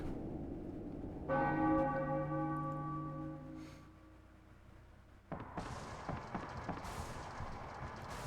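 A church bell from the video game Final Fantasy IX tolls once with a bright, ringing strike that slowly fades, then gives way to game ambience and clatter.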